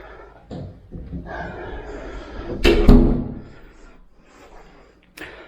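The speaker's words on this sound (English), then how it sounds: "I'll just close this door." An interior door in a newly built house in Thailand swings and shuts with a solid thud midway, followed by a brief knock, close to the microphone.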